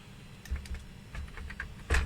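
Key combinations are pressed on the keyboard of a 1998/9 Apple PowerMac G3, a few quiet, uneven clicks and taps in a short burst with no talking.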